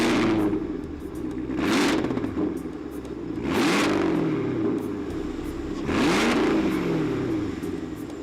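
A 2023 Cadillac Escalade-V's V8 revs hard three times, each loud exhaust blast swelling and falling back to a rumbling idle between, close and without talk.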